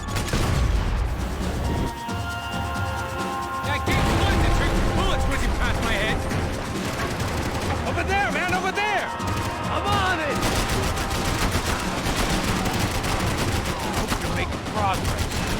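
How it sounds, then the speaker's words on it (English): Gunfire crackles in the Max Payne video game, repeated bursts of shots and whizzing bullets in a busy, dense stretch of combat, with voices talking over it. "That gate's noise that triggered bullets whizzing past my head."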